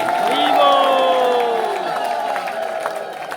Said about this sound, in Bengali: আপনারা করতালি, উলুধ্বনি হরিধ্বনি একটু মায়েরা